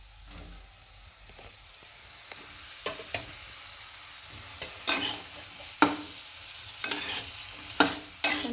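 Capsicum (shimla mirchi) sautés in a thick masala with a low sizzle, broken by sharp scraping stirs that grow more frequent and louder toward the end, close and without talk.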